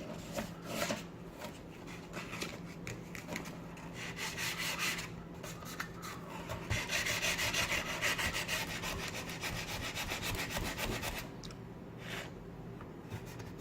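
A mandolin fretboard sanded by hand with 400 grit sandpaper, a continuous close rasping scrub in back-and-forth strokes, louder and denser through the middle.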